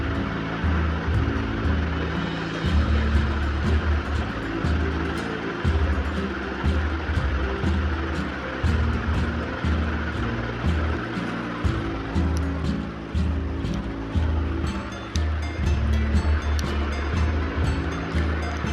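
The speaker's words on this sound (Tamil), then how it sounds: "இப்போ ரன் பண்ணும்போது எப்படி ரொட்டேட் ஆகுதுன்னு பார்த்துடலாம்" A repaired table fan running with its blades fitted, giving a steady, loud whooshing drone with a low motor hum that holds throughout without a break.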